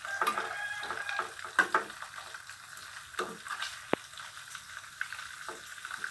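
A pork cutlet with cheese sizzles and crackles in a frying pan at moderate volume, with occasional clinks and stirring sounds, and no talking.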